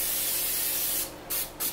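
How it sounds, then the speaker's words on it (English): Cooking spray hissing from a can onto a pan on a stove, a sustained close spray followed by two short bursts, with no voices. "Got to spray the stuff down."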